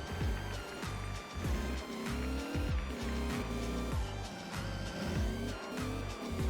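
A truck in Farming Simulator 25 hauls dug quarry material, its engine droning steadily and loudly with repeated rising and falling pitch sweeps as it changes speed, no voice over it.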